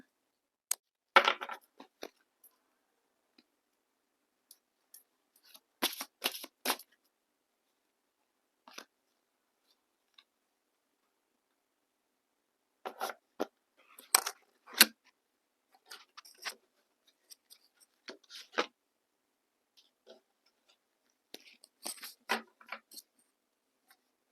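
Tarot cards drawn and shuffled from a deck produce sparse, faint papery flicks and snaps in scattered clusters against near silence.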